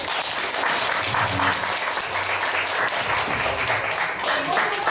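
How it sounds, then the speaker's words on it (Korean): Sustained applause from an audience at the close of a long community talk and Q&A session on social economy and sustainable cities, a dense steady wash of many hands clapping at even loudness throughout. "세 분, 그리고 한 분, 네 분께 큰 박수"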